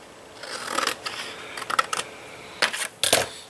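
Short bursts of scissors snipping paper for an Easter basket craft, a few quick crisp cuts spaced unevenly and heard up close with no talk.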